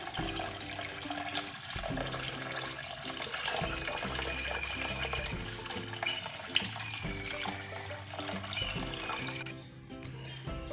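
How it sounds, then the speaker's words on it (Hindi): Raw mutton or beef being rinsed under running tap water, a steady splashing water stream with handling sounds throughout, no talking. "एक दफ़ा जो है टैप वाटर से आप वॉश कर लें। तो इसको मैं वॉश करने लगी हूँ।"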